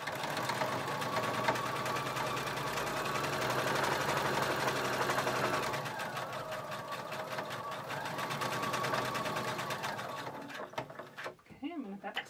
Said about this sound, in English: I'm going to sew along the seam using about a 1/4 inch seam allowance